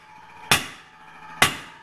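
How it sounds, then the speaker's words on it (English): Two close, ringing hammer blows on the outside edges of a steel spring being forged into a spud, about a second apart, each sharp strike decaying with a metallic ring. "Back to the traditional hammering, hitting the outside edges so that they squeeze out to become, so that they can be sharpened."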